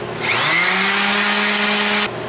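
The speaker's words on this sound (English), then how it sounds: "I have a little bit of tear out on the back side of these, so I'm gonna go ahead and sand those out too" Steady whirring power-sanding of tear-out on the back side of wooden drill-press table parts, close and loud, running about two seconds at an even pitch before cutting off, with no talk.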